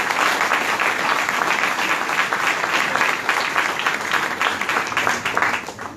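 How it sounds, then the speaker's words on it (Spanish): A crowd at a political campaign launch claps in a dense, lively burst of applause welcoming a speaker, sustained and fairly loud throughout with no talk over it. "Le damos la bienvenida con el aplauso"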